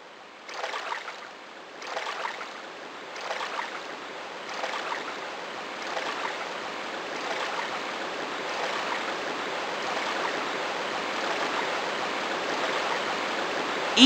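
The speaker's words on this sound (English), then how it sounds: "I can hear the sound of a waterfall. It's definitely a drainage system." Rushing water of a waterfall inside a drainage system in Tomb Raider 2's Venice level: a few surging bursts open into a steady, continuous broadband roar that fills the whole stretch, with no voices.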